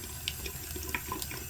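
Hot tap water runs steadily into a sink over a metal piece being treated with liver of sulfur patina, a continuous close splashing rush with small bright spatters and no talking.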